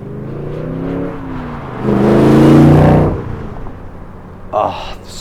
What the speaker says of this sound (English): I'm going to accelerate away from these lights, and the car just sounds awesome